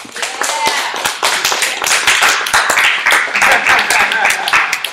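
Close, loud audience clapping on a livestream as a guest is welcomed, rapid sharp claps from a modest crowd mixed with cheering and whoops, busy and uneven throughout.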